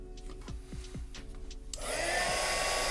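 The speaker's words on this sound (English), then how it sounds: "I'm just going to go ahead and grab my heat gun" A heat gun switches on partway through and blows a steady, loud broadband rush while shrinking heat-shrink tubing onto wires of a 1/72 scale AMT Razor Crest model, after a quieter stretch with a few soft handling sounds.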